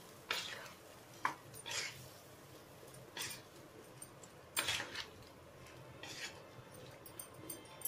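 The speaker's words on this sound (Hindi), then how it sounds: "ये नमक डाल देंगे और ये लाल मिर्च पाउडर डाल देंगे अच्छे से हम इसको मिला देंगे" A spoon scrapes and clinks in a pan as salt and red chili powder are stirred into sweet-sour raw mango chutney (launji). Short, sharp scraping strokes come at irregular intervals over a quiet background.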